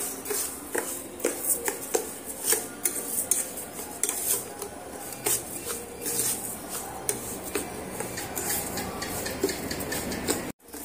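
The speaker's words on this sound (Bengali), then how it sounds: "এবার আমি গোবিন্দভোগ চালটা ঘিয়ের মধ্যে দিয়ে সুন্দর করে একটু মুচমুচো করে ভেজে নিতে হবে" Gobindobhog rice frying in ghee, stirred in the pan, with steady light clinks and scrapes of a utensil against metal over a soft background sizzle. No one speaks.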